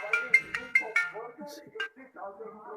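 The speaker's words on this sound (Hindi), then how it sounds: "ये रही, यही रिंगटोन है।" A ringtone plays from a V8 smartwatch, opening with four bright, evenly spaced tonal beeps followed by a looser melodic phrase. It sounds close and moderately loud, with no talking over it.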